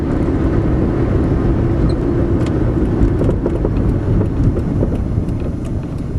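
A carbureted engine runs at about half throttle with a loud, steady, rough drone and rumble, close to the microphone with wind buffeting, and no talking over it.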